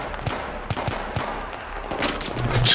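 Rapid bursts of automatic gunfire and scattered shots in the combat video game Battlefield 3, dense and continuous throughout, growing louder toward the end.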